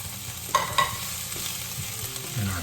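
Mushrooms tossed into a hot frying pan for a chickpea penne dish, giving a steady close sizzle with a couple of sharp clatters as they land and get stirred.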